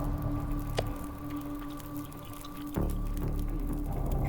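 A character eats meat in The Long Dark: faint wet squishing and dripping chewing sounds, with a couple of sharper clicks, over a steady low ambient drone.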